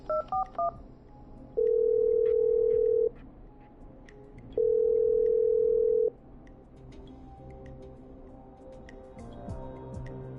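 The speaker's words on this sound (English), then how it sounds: "I'm dialing. One moment." Telephone dialing in a horror video game: a quick burst of three keypad tones, then two long, steady ringing tones separated by a pause, with faint ambient hum and small clicks between them.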